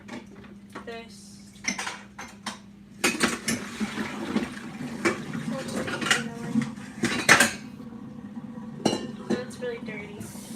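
Dirty dishes being washed in a sink, with plates and cutlery clinking and clattering in irregular bursts over faint running water, close by, with some talk in between.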